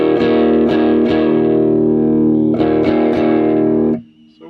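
Electric guitar through a Rev G3 distortion or Rowan fuzz pedal into an amp and cab, loud sustained chords struck several times with thick saturated tone, then cut off near the end.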